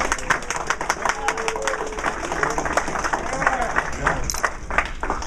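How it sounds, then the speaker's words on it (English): Audience applause at a Strikeforce press conference for champion Nick Diaz, a steady patter of clapping from a room of people with voices murmuring underneath throughout. "Give him a round of applause."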